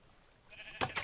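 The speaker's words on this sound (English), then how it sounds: "We got some sheep." Sheep bleating in Minecraft, two short bleats close together near the end after a quieter lead-in with a faint higher tone.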